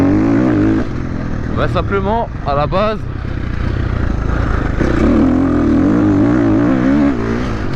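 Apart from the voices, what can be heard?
Husqvarna dirt bike motorcycle riding on track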